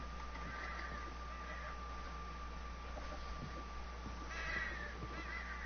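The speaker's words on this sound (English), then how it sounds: "You hear the crows and shit?" Crows caw faintly in the distance in Red Dead Online, a couple of rasping calls over a constant low ambient hum.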